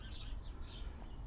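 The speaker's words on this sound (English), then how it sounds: "can't believe how tame these sparrows are here." Tame sparrows in a garden give a few thin, quick chirps at moderate distance over low rumbling background noise, with no talking.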